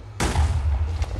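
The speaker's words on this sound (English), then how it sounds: "Look how big an explosion it makes for one gunpowder and a flint." A thrown Extremely Fragile Little Nuke goes off in modded Minecraft as one loud, sudden blast with a deep rumbling tail that lingers near and heavy, alone without talk.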